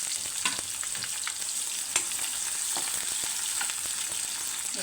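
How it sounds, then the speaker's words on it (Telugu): Onions frying in a pan until golden, a steady bright sizzle with occasional stirring scrapes, close and continuous with no talk. "ఇప్పుడు ఆనియన్ కూడా వేసేద్దామండి. కొంచెం గోల్డెన్ కలర్ వచ్చే వరకు వేయించాలండి."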